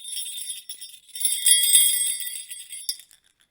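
A small bell jingles and tinkles with bright, high ringing tones that swell in the middle and fade out at the end, heard alone.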